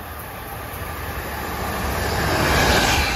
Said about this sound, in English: This is train 609, Port Jefferson to Long Island City.